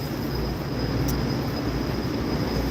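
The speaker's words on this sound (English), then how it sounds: "this train is probably going to leave in the next. It's going to leave shortly," A train waits to pull out, giving off a constant broadband rumble and hiss with a faint high whine above it and no distinct events.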